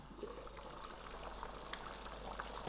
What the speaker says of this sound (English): to my stew I added another cup of water